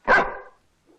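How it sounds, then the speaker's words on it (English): Dog in a 1937 film giving a single sharp bark, close and loud, followed by silence and a faint trailing sound. "Scruffy, if you're a real good dog, I'll let you go out and bite a gypsy."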